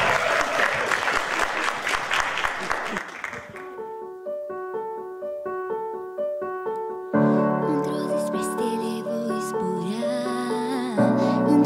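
Audience applause at a music competition fills the opening few seconds with dense clapping, then gives way to a keyboard-like musical introduction that continues to the end.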